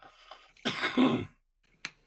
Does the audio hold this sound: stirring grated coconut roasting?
no